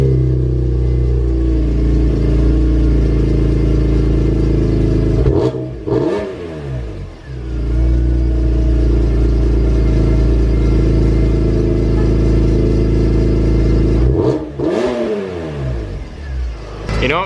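A BMW E46 M3 fitted with a Magnaflow cat-back exhaust fires up for the first time and settles into a loud, steady idle, with two sharp throttle blips breaking through, one about halfway and one near the end.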